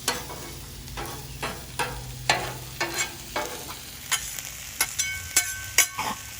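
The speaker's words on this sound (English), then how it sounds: "now we've got our peppers on. Mix those up with the onions." Peppers and onions fry on a Blackstone griddle with a steady sizzle, while a spatula stirs and scrapes them in a quick, uneven series of sharp taps and scrapes close by.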